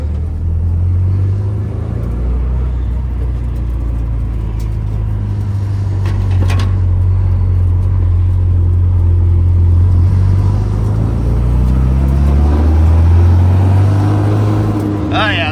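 A Sprite with a freshly fitted engine drives in second gear, giving a steady close low engine rumble with a slight rise in revs near the end.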